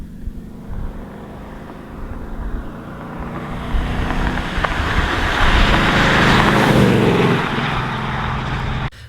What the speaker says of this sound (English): and flyby shots sound pretty good too.